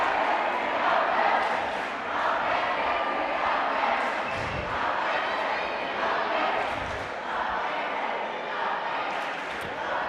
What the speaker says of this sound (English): You can hear the German team cheering on mat 1 for Bruder.